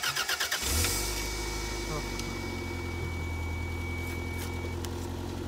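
A 1991 Toyota MR2 Turbo engine cranking in a quick rhythmic stutter, then catching and settling into a steady close idle, with a faint whine running over it and a voice talking.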